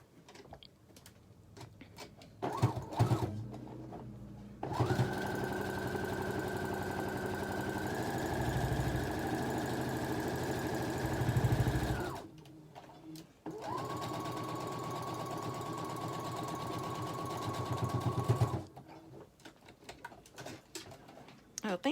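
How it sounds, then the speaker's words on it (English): Sewing machine top-stitching a fabric face mask, running in two long steady whirring bursts separated by short pauses, close and clear, with someone speaking briefly between the runs. "So if I do a top stitch, that'll help that to lay down flat."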